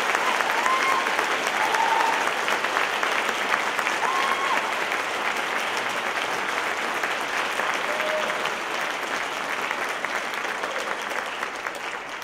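Concert audience at a school symphonic band's spring concert applauds steadily for twelve seconds, a full, even wash of clapping that holds its level and then eases slightly toward the end.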